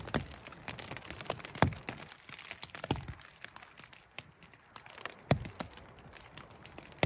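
Rain patters on leaves and surfaces nearby in a windy forest, with scattered sharp drips and cracks standing out over a soft, steady background hiss.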